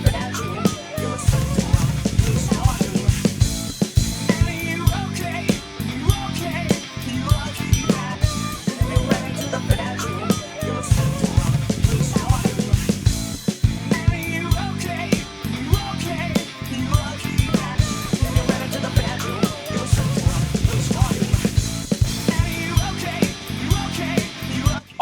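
A loud, dense rock drum groove with steady kick hits and a trashy, crashing China cymbal riding over a full band, continuous throughout.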